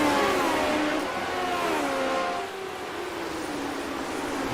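Historic Formula 1 race cars roar through Quebec corner at Mosport, a loud high-pitched engine whine sweeping down in pitch as the cars pass and fade, steady track noise behind, no talk.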